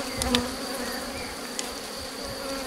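Honeybees swarming around an open beehive during an inspection, a continuous close buzzing hum with individual bees whizzing past the listener, steady and dense with no talking.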